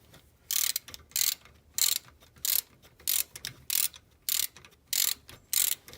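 A hand ratchet clicks in about a dozen regular strokes, close and fairly quiet, during removal of the SR5 third member from an AE86, with no talking.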